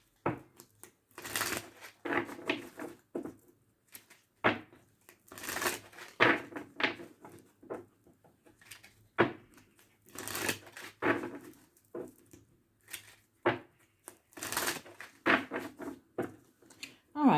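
Tarot cards shuffled repeatedly in quick riffling bursts with brief pauses between, close and crisp, with no talking.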